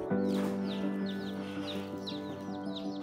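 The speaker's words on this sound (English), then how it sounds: "what is it? Chicken." Chickens cluck and chirp repeatedly at moderate distance, a series of short calls over a steady low background hum.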